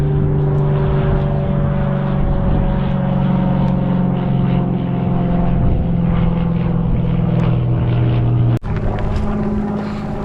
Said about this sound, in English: There's some crazy plane doing some stunts out here.